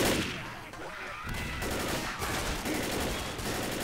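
Gunfire in the co-op zombie shooter Left 4 Dead: dense, rapid bursts of shots fired close by, layered into a continuous crackling barrage with game noise around it.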